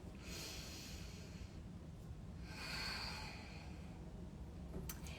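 Slow, deep breaths, a long exhale and later a fuller inhale, close and soft over a steady low hiss, taken calmly with eyes closed during an acupressure relaxation.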